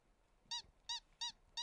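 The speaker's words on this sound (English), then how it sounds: "It squeaks when he presses the button." Four evenly spaced high squeaks, each short and tonal, come from phone keypad buttons being pressed, faint and close against a quiet background.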